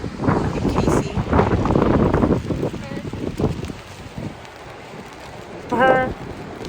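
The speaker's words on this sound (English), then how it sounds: "Look at this wind though." Strong gusting wind on the Oregon coast buffets the microphone in a dense, roaring rumble, loudest in the first few seconds and easing later, with a brief voice near the end.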